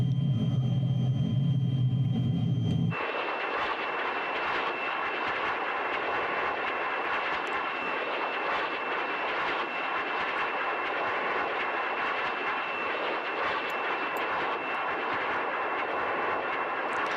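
Model aeroplane engine in flight, a steady buzzing drone that holds for most of the clip after a brief rumbling start, moderately loud and alone with no talk.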